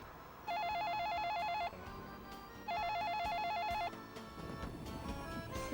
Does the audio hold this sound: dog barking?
no